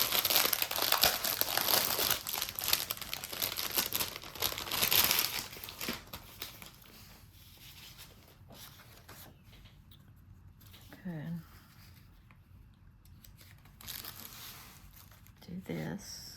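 Scrapbook paper crinkles and crumples loudly up close for several seconds, then quieter rustles and handling follow, with brief bits of voice in between.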